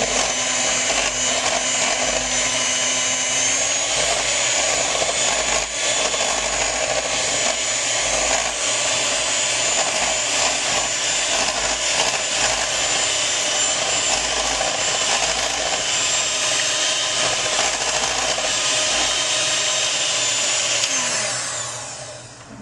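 An electric hand mixer whirs steadily while blending a flan mixture, a loud continuous motor drone that runs evenly for about twenty seconds before cutting off at the end.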